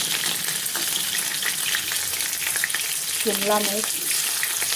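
Cauliflower, potatoes and capsicum fry in hot mustard oil in a kadhai, a steady close sizzle with a brief stir or clatter midway, while a voice speaks briefly.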